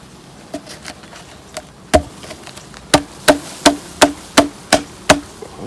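A metal hive tool scrapes and knocks against propolis-coated beehive frames, producing a series of sharp, close taps. The taps become regular, roughly every third of a second, over a soft buzz of bees.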